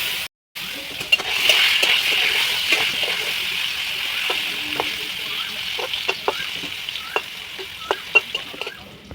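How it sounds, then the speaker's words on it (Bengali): Pointed gourd (potol) fries in hot oil with turmeric over a low flame, a steady close sizzling hiss broken by sharp spatters and light stirring clicks. "দিয়ে পটলগুলো ভালো করে ভেজে নিতে হবে, যাতে পটলগুলো ভালোভাবে সেদ্ধও হয়ে যায়।"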